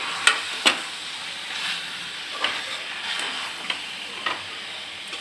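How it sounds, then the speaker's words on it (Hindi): Meat sizzles and fries in a pan with turmeric, salt, tomatoes and green chillies while a spoon scrapes and stirs it at intervals, giving a soft steady hiss broken by sharp stirring clicks. "मैं सबको थोड़ा सा अच्छे से भून लूंगी।"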